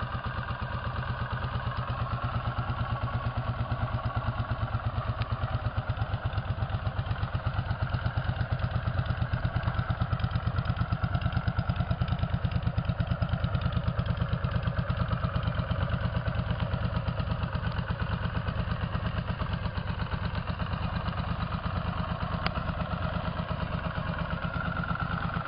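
A 1983 Honda CX500 C motorcycle with a 50 hp engine idles steadily for the whole stretch, a close, even, lumpy thrum with a light mechanical clatter running underneath.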